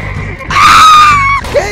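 A horse in the Roblox game Westbound lets out a loud, high, wavering neigh lasting about a second, set against game background noise.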